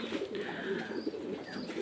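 Pakistani highflyer pigeons, imported from Kuwait, coo softly at close range, a few low, rolling coos overlapping in quick succession within a brief, quiet moment.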